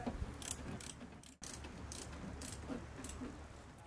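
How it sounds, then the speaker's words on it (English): Hex bolts being tightened on a KAON stainless steel side table for a Weber Q grill, heard as a close run of rapid mechanical ratcheting clicks with one brief break partway through. "tighten up these hex bolts"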